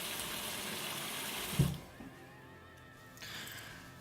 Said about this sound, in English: chuck it in our hot water. As you can see, it's fill it up over the top of the can.